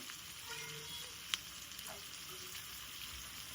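Biryani ingredients frying in a pan while being stirred, a soft steady sizzle with a single sharp clink of a utensil, fairly quiet and close, no talking.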